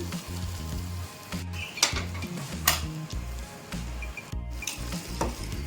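A sizzling tempering is stirred into pongal, giving a continuous hot-oil crackle with intermittent scraping and metal utensil knocks against the pot.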